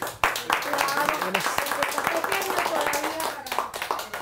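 An audience applauds a child's idea with brisk, sustained clapping from many hands, close and lively, with a voice speaking over it.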